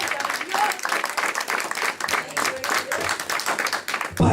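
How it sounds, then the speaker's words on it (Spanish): A church congregation bursts into loud, sustained applause, many hands clapping densely and close for several seconds, with some voices mixed into the crowd noise. "Puedes darle un aplauso fuerte al que vive por los siglos de los siglos."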